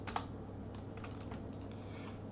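Typing on a computer keyboard during a geometry lecture, a quick run of soft, fairly quiet key clicks at an uneven rhythm with no talking.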